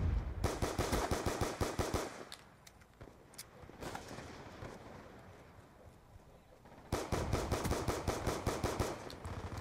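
Rapid bursts of gunfire crack out in a Black Ops 2 multiplayer match, dense repeated shots for about two seconds, a quieter gap with scattered pops, then another fast volley near the end, loud and close.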